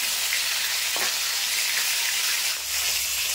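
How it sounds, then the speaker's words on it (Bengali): Fish heads fry in hot oil with a dense, even sizzle that holds at steady loudness throughout, broken by a brief scrape or stir about a third of the way in; no voices. "এই পাশে আমি মাছের মুড়োগুলো কিন্তু একটু উল্টে দেবো। এক সাইড ভাজা হয়ে গেছে"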